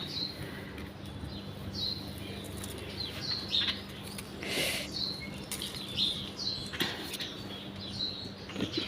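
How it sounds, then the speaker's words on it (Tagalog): Small birds chirp and tweet intermittently, with short high calls scattered over a steady outdoor background and occasional fluttering rustles. "Yung ibon maingay."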